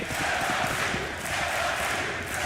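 Large esports tournament crowd at a Counter-Strike match between Virtus.Pro and Ninjas in Pyjamas at DreamHack, a dense continuous roar of cheering and shouting filling the hall, steady and loud throughout.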